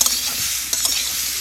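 Potato and papaya pieces fry in oil with a loud, close sizzle, interrupted by scraping and clinking as a spoon stirs them in the pan, with no voices.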